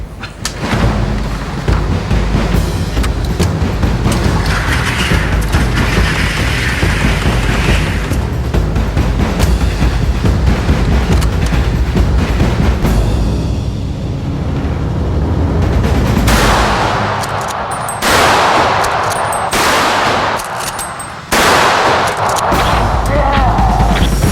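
A 12 gauge pump-action shotgun being handled and fired outdoors during a hunt, with a long stretch of steady rumbling and rustling, then several sharp, loud blasts close by near the end.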